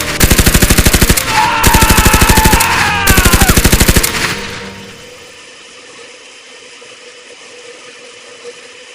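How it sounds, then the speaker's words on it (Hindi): A cartoon-style machine gun fires three long rapid bursts, loud and close, each a dense rattling stream with short gaps between, then cuts off into a low, quiet background hum. "बाबा ने मशीन गन शुरू कर दी"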